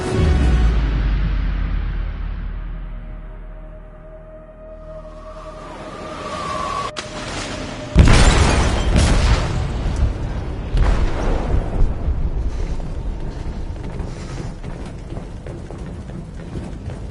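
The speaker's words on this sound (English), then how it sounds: "They detonated an explosive in the hold. The ship is sinking, sir." An explosion in a ship's hold in a video game: a deep rumbling boom swells and fades, then a sharp loud blast erupts into sustained roaring debris and rumble.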